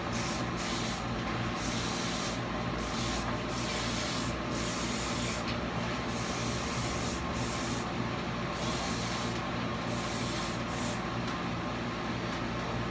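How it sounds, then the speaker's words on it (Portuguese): Hairspray hisses from an aerosol can held at a distance and aimed at the hair roots while styling drag waves, with repeated short bursts and near-continuous spraying up close. "Vou pegar o spray de longe, tá?"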